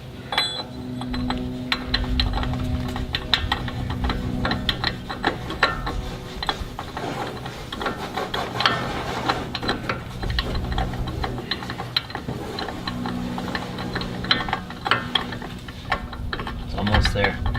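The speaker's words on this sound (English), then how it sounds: "Torque wrench." A torque wrench ratchets steadily and close by while a Dodge Spyntec free-spin hub conversion is being installed, its rapid clicking pawl continuing throughout with brief pauses and shifts in pace.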